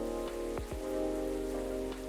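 Steady rain ambience from the video game Coffee Talk, a continuous soft patter running alone through the clip with a few brief low thuds.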